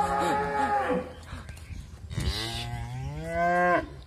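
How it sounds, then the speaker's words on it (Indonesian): A Simmental cow of the Malbor type lowing on a farm, two long, loud harmonic moos close by, separated by a short gap of background noise, the second rising and swelling before cutting off. "Dengan jenis adalah sapi simental Malbor"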